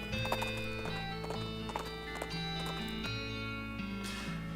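Cart horses clip-clop steadily in the West of Loathing video game, with a brief whinny among the hoofbeats over a continuous tonal game music background.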